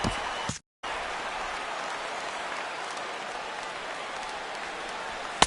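Steady rain hisses down over a baseball game, a broad continuous wash of sound with a brief gap and faint crowd murmur, with no play-by-play heard.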